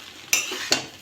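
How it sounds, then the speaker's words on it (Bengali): Chow mein being stirred and tossed in a pan with Maggi masala, two sharp scraping strokes against a faint sizzling background, close and fairly quiet with no talking. "নেড়ে চেড়ে নেবো, ভালো করে মিশিয়ে নেবো"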